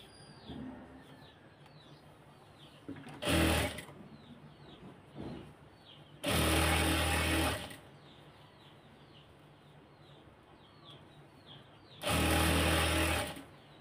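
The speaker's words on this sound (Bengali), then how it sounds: "এটা আমি ইনসাইডতে সেলাইটা দিয়ে দিব" A sewing machine stitches the inside of a sleeve design in three short loud bursts of fast whirring, with quiet gaps between where faint birdsong chirps in the background.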